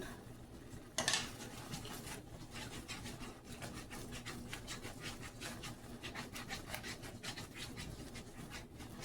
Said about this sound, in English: I'm gonna get my whisk and start whisking this a little bit